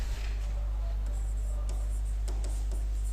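Sentences are written on a classroom board in faint, scratchy strokes that come in short bursts over a steady low electrical hum. No one speaks.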